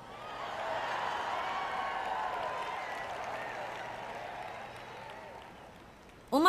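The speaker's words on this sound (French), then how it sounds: "On m'applaudit beaucoup ce soir" An audience at a French-language evening talk applauds steadily for several seconds, a broad wash of clapping that slowly fades before a voice cuts in at the end.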